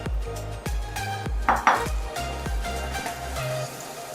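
Boiled rajma and chole being mixed and mashed in a pan for veg seekh kebabs, a steady rhythm of dull metallic knocks and scrapes from a masher and spoon against the pan, close and clear, with no talking.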